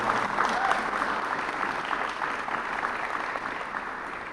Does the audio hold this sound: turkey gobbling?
no